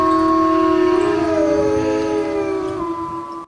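Recording of wolves howling: several long, overlapping tonal howls that hold a similar note and slide slightly in pitch, loud and alone, ending abruptly.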